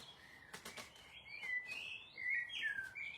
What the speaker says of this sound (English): oh, another blackbird.